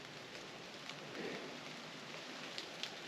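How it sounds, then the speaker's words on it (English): Light rain sprinkles on a wooded campsite along the Ozark Trail in Missouri, a soft, steady hiss with occasional distinct drops close by and no voices. "Right now it's just kind of sprinkling, so it's not that bad."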